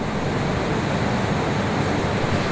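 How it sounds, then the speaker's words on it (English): An underground river of running water inside a cave in Wyoming, a dense continuous rushing wash that stays steady and fairly loud throughout, with no voices. "Leaving the lunchroom, we begin to notice the sound of running water."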